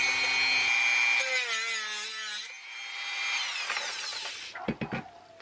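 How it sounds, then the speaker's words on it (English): A Dremel rotary tool grinds through a metal snap ring inside an RCA 7-TR-2 tape recorder, a steady high whine that dips in pitch under load, then fades and ends in a few sharp clicks and knocks. "It's amazing how quickly that snap ring can get red hot under the tutelage of the Dremel tool."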